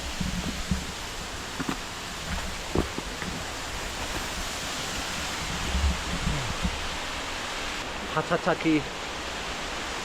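An unfrozen waterfall on Mount Akaboshi in Ehime during a winter hike gives a steady, soft, broadband rushing hiss, with a few brief voice sounds and a short bit of talk near the end.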